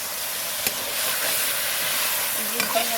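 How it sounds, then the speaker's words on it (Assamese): Mutton being stirred in a hot pot to keep it from sticking: a steady hissing sizzle with a few scraping clinks of the utensil, close and continuous. "পটককৈ লাগি ধৰিব বুলি অকণমান লৰাই দিছোঁ।"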